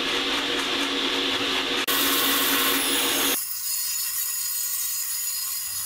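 A table saw cutting curved wooden dome ceiling ribs, its loud steady whine and cutting roar running for a few seconds before the blade exits the wood and the motor hum continues alone, with no talking.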